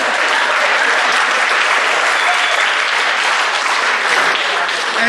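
A banquet audience breaks into a big round of applause, dense and loud, sustained evenly from start to finish with no talk over it.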